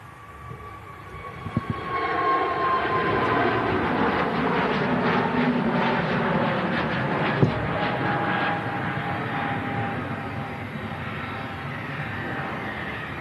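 An Emirates airliner holds near the runway at an airport spotting park, its engines giving a steady, loud broadband roar with a whining tone that continues through the whole stretch, plus a couple of brief knocks.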